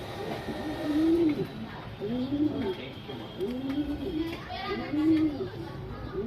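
Flying pigeons kept for sale coo softly in repeated rolling calls, close by, while children's voices and chatter sound in the background.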